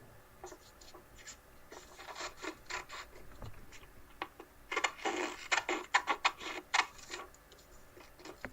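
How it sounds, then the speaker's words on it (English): Scissors snip a paper trapezoid into shape, giving a run of short, crisp cutting strokes in an uneven rhythm that grows denser and louder midway, close up with no talking. "And here's our trapezoid, which I will cut with the scissors."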